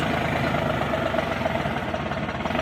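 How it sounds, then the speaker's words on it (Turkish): A New Holland T4.60S tractor engine labours heavily while plowing a stony field, a loud, continuous, rough rumble with a knocking texture close by. "Evet gördüğünüz gibi neredeyse stop edecek. Traktör o kadar zorluyor."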